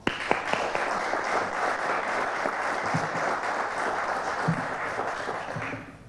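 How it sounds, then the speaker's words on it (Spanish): Audience at a canary song contest trophy ceremony applauding a judge, a sustained burst of many clapping hands in a room, fairly loud and even, tapering off at the end. "El juez don José Manuel Zambrano Prieto, para el que pedimos un fuerte aplauso"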